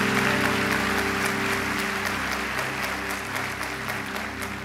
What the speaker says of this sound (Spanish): Y selle ese amén con un aplauso.